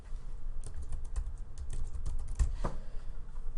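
Fingers type text on a computer keyboard, a soft, irregular patter of key clicks close by and fairly quiet, with no talking.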